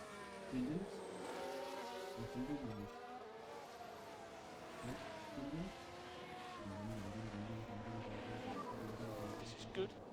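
Formula 1 race cars in the F1 Manager 2022 video game at the Bahrain circuit, engines whining and sweeping up and down in pitch as cars pass continuously, with someone talking over them.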